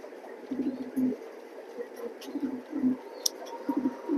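A racing pigeon coos in low, soft, repeated throaty pulses after being let go. The calls are near but modest in level, over a light background hiss.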